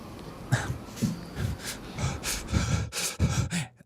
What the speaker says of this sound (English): Yes, clear your throat.